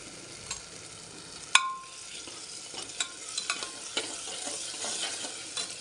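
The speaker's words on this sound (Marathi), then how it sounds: "2 टोमॅटो टाकते आता। हे बघा हे पण आता मस्तपैकी फ्राय करून घ्यायचं।" Tomatoes frying and being stirred in a pan while preparing a quick pressure-cooker chicken biryani, a steady soft sizzle with a sharp utensil clack and a few lighter scrapes and taps.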